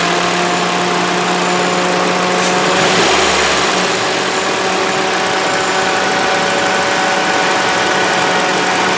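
A misfiring car engine, heard near the exhaust, idles steadily with a rough, uneven running note and a faint vibration, continuous and fairly loud throughout.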